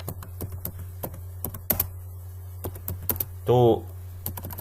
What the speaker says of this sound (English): We will just type some text